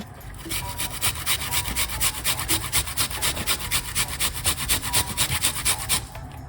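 Fresh ginger root rubbed across a grater in steady, rhythmic rasping strokes, close and continuous, a dry scraping cadence repeated many times without pause.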